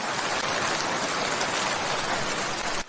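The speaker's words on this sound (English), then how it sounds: "There was torrential rain." Torrential rain pours steadily as a dense, continuous downpour hiss, loud and unbroken throughout, with no voices over it.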